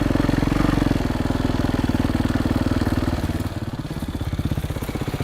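Dirt bike engine pulling away as the clutch is released with throttle, a steady rapid chugging putter close by that shifts lower and rougher partway through, with no talk.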